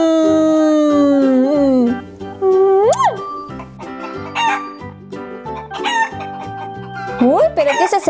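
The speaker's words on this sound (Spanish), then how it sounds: "Es mi gallina Tina" A cartoon farm hen clucks and lets out short crowing squawks in a children's show, loud and close, mixed with bouncy background music.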